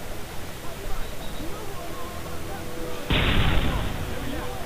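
Frag grenade explosion in Call of Duty MW3 campaign play lands as a sudden loud broadband blast after a stretch of quieter battlefield noise, its roar continuing to the end, with a player's voice present.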